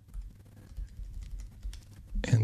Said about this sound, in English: I'm going to use my arrow keys.